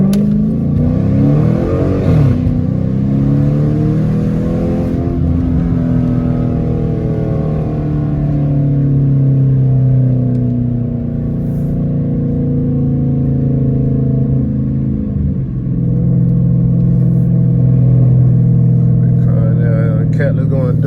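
Loud, close exhaust note from a catless Dodge Challenger R/T, droning and rising through repeated revs and accelerations in traffic, with a voice faintly underneath at times.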